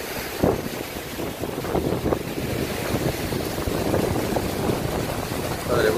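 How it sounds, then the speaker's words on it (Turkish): Gusty wind buffets the microphone in uneven rushes, with a broad whooshing roar and water sloshing faintly underneath. "şu anda burada sanki hiçbir şey yokmuş gibi ama rüzgar başladı"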